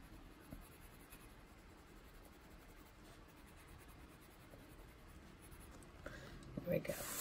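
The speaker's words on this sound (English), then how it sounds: "We'll go in with a black pencil" A black pencil colours on paper in an adult colouring book, making a faint, steady scratching of short repeated strokes. The strokes grow slightly louder near the end.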